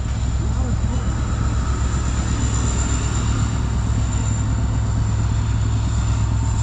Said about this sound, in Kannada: ಇದೇನು ಟ್ರೈನ್ ಭಾರಿ ಸ್ಲೋ ಹೋಗ್ತಾ ಉಂಟು.